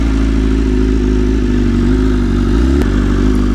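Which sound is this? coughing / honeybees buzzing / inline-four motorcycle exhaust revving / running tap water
inline-four motorcycle exhaust revving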